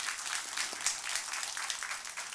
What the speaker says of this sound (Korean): 우리 박수 한번 해야 되지 않겠습니까?